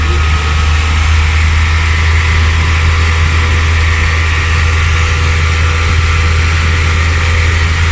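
A car engine held at raised revs during a battery charging test, a loud, steady, close drone with a heavy low rumble that stays constant throughout.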